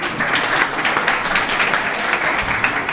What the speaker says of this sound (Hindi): उनके लिए एक बार जोरदार तालियां हो